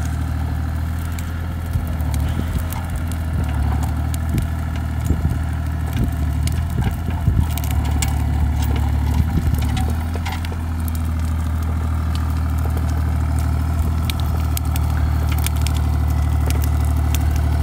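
A Bobcat E35 mini excavator's engine runs at a steady idle, a loud, low, continuous rumble heard close up, with light clanks and knocks from the machine scattered over it.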